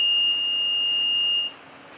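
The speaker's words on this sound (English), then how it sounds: "The alarm that goes like this, with breaks in between, indicates that people should calmly leave the building through the gowning room." Cleanroom building evacuation alarm sounding a loud, steady electronic beep tone that holds and then cuts off, signalling a calm exit.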